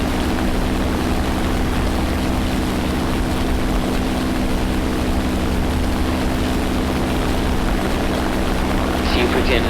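WWII fighter plane engine in a flight simulator combat game, a steady loud droning propeller hum with a constant low tone, running unbroken throughout.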